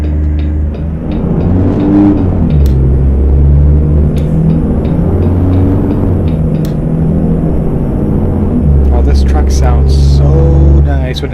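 A heavy truck engine in a trucking video game pulls hard under acceleration, a loud, steady low rumble that holds for the whole stretch while a person talks over it.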